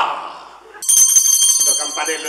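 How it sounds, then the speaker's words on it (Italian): A small bell rings on a theatre stage in a steady, bright, ringing run after someone speaks, and talk continues faintly under the bell. "Lo campanello suona troppo piano."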